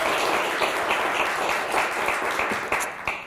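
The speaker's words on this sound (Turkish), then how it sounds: "Bir alkış daha." A Turkish word game show studio audience claps steadily throughout, a dense, even wash of many hands close to the microphone with no talking.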